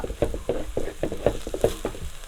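Spices being stirred in a frying pan while making mackerel curry, a soft scraping and sizzle repeating in quick strokes, close and steady throughout.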